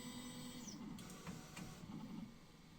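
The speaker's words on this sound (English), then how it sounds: "Start leveling the build plate. Keep your hands free because it's going to be moving." An Ultimaker 2+ Connect 3D printer raises its build plate during leveling, giving a steady, close mechanical motor hum with a few faint clicks and no talking.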